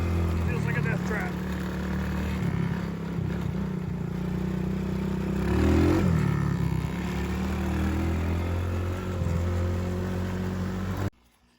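Small two-stroke engine of a Yamaha PW50 mini motorcycle buzzing as it is ridden around a backyard, its pitch rising and falling with throttle near the middle, with a person talking over it.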